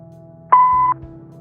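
A single steady electronic answering-machine beep from the video game Kathy Rain 2, clean and close, lasting under half a second over a faint low background hum, with no voices.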